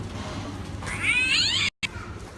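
A single drawn-out cat meow rises and wavers for under a second, fairly close, over a steady low background hum.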